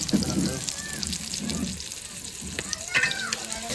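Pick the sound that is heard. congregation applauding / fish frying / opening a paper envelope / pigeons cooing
fish frying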